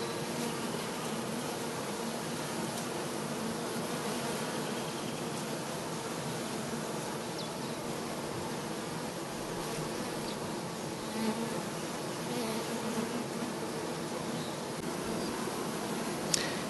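Bees swarm around a hive during a pollen harvest, a dense, continuous buzzing drone that stays loud and even throughout, close by and without speech.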